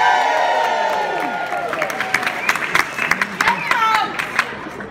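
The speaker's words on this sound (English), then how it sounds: "Just one little note about that applause." An audience at an adult comedy weekender at Pontins Prestatyn breaks into loud applause with cheering and whoops. The crowd noise is steady and close, and scattered sharp claps rise toward the end.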